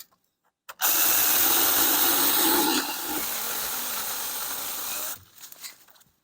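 A compact one-handed NaTiddy mini chainsaw cuts through hard wood. Its loud, steady buzzing whine runs for about four seconds, shifts pitch partway as it bites through, then cuts off and leaves faint clatter.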